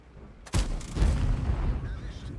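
A tank cannon firing in a tank video game on the Karelia map: one sudden, loud boom followed by a long rolling rumble that slowly fades.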